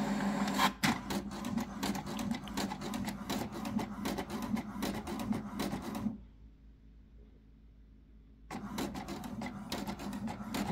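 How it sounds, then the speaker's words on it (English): A printer printing a single page, with loud, close mechanical whirring and rapid clattering feed pulses, a quiet pause of a couple of seconds, then the rattling motion resumes. "So it's printing."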